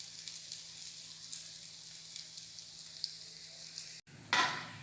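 Paneer cubes fry gently over a low flame, giving a soft, even sizzle that runs steadily, then a brief gap and a louder burst of spattering at the end.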